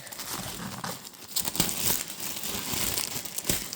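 Close crinkling and tearing of stiff plastic wrap on a tightly packed Topps advent calendar, with irregular sharp rips and rustles.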